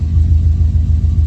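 Car idling warm at base idle through an ETS Extreme catback exhaust with mufflers, a loud steady deep burble with an even low pulse and no talking.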